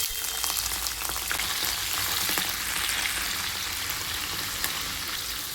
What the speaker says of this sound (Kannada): ಆನಿಯನ್ ಫ್ರೈ ಮಾಡೋಣ.